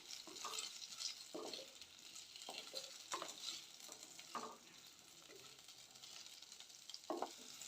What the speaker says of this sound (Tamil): உருளைக்கிழங்கை மீடியம் ஃப்ளேம்லேயே வச்சுட்டு ஒரு 2 நிமிஷத்துக்கு நல்லா ரோஸ்ட் பண்ணி எடுத்துக்கோங்க.